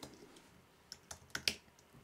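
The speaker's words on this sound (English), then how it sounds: "let's type in root." Someone types on a computer keyboard at a macOS High Sierra login prompt. A few soft keystrokes are followed by several sharper clicks in quick succession. The typing is faint and close, with no talk.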